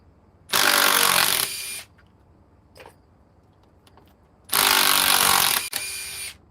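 A Metabo cordless impact driver gives two loud, buzzing bursts of just over a second each, with a small click and soft handling noises in the quiet between them.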